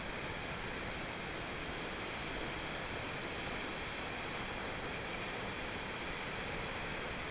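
The Salto waterfall, a 120-metre cascade, pours in a constant, dense roar of falling water, loud and unbroken with no voices over it.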